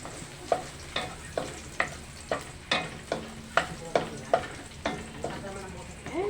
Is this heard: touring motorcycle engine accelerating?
no